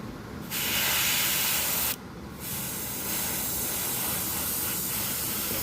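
Spray paint hisses from an aerosol can onto miniatures in two bursts: a loud, close blast, a short pause, then a longer steady spray that tapers off.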